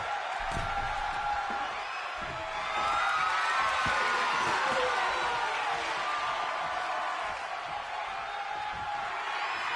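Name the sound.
arena crowd cheering in WWE 2K25 video game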